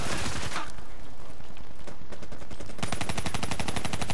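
Kuda submachine gun in Call of Duty: Black Ops III firing rapid full-auto bursts, a dense rattling stream of shots that drops out briefly and then returns as a steady, even rhythm near the end.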